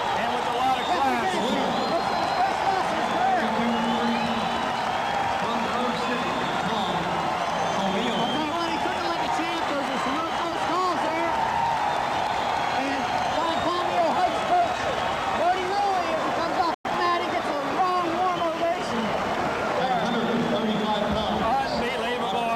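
Wrestling match crowd at the Dapper Dan event roars and claps steadily after an upset takedown by Tomio of Grove City, a dense wash of cheering and applause with commentary voices mixed in throughout.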